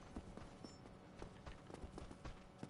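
Footsteps in Dark Souls Remastered thud in a steady, regular rhythm, a quiet repeated clomping that sounds almost like hooves, with faint game ambience behind it.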